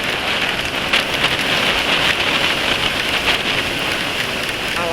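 Steady, loud rain falls and patters densely on surfaces nearby. The downpour keeps a constant hiss with no talking.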